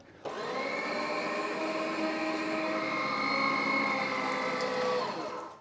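An electric mincing machine grinds Black Angus beef trimmings with picanha for an 80-20 fat ratio, a steady loud motor whine that holds evenly for several seconds before cutting off.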